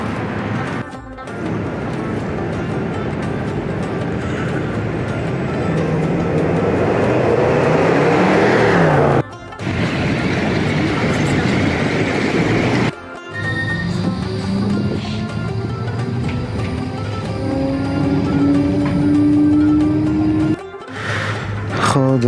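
Riding inside a moving train gives a loud, continuous rumble with a rising and falling mechanical whine, broken by a few abrupt cuts.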